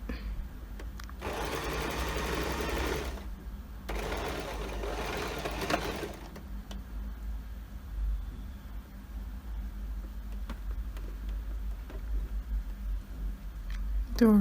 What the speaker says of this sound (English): I'm doing a reverse stitch and sew all the way down and reverse at the end